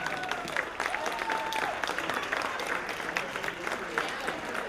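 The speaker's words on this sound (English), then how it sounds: "if you can give a rousing round of applause for all 3 wonderful toasts that we have here tonight" Wedding reception guests applaud after three toasts, a sustained, fairly distant roll of clapping across the room, with murmuring voices and a few brief tones mixed in.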